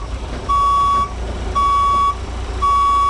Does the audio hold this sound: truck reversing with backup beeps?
yes